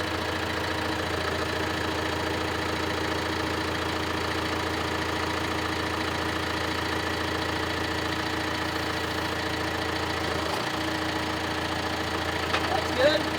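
A John Deere 6125R tractor engine idles steadily and close by, a continuous low diesel rumble with a slight knocking texture that holds for the whole stretch.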